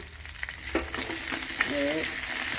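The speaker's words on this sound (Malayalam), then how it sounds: "ചെറിയ ഉള്ളി അതിൻ്റെ ഒന്നിച്ച് ഒരു പച്ചമുളക് ഇട്ടാം" Small shallots and a green chili fry in hot oil for a prawn theeyal, with a continuous close sizzle, some stirring clatter and a short voiced sound near the end.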